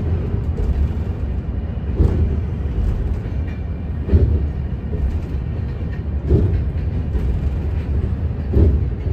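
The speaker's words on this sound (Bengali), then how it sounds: "crossing Farakka barrage with আমজাদা and Radhikapur express" A sleeper coach rumbles across Farakka Barrage alongside the Radhikapur Express. A steady low rolling roar carries rhythmic thumps every couple of seconds, loud and continuous, with no talk.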